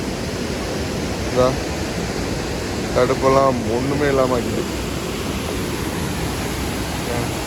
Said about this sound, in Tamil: அருவியில் பேர் வெள்ளம்